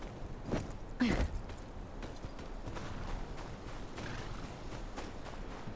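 Horse hooves clop in the Game of Thrones Kingsroad video game, a loose series of soft hoof beats over a muffled background bed, moderately close and fairly quiet.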